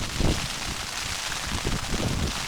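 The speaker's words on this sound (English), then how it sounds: "As you can hear, it's raining a lot and it's windy." Dense, steady roar of heavy rain mixed with gusting wind on a tent during a mountain wild camp, loud and close, with low buffeting thumps throughout and no voices.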